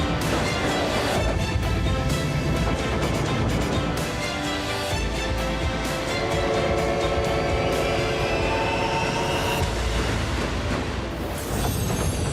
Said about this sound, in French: Des trains impressionnants